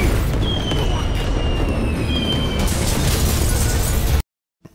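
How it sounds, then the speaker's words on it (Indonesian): A fireworks attack in an animated cyberpunk story bursts as a loud, dense blast of crackling noise with whistling streaks, sustained for about four seconds before cutting to silence. "Kemudian menyerang Shinji dengan kembang api."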